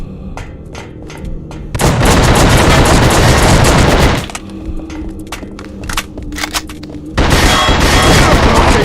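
Gunfire in a PS2 horror video game comes as loud, dense bursts of rapid automatic shots. Two long volleys are separated by scattered single shots and quieter stretches, all up close.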